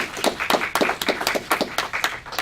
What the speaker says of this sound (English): I want to give a little round of applause